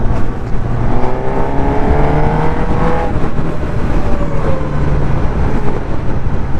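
Suzuki Katana 1000cc motorcycle engine with a quick shifter and blipper, heard loud and close as it pulls hard through rising revs with quick gear changes, under steady wind rush.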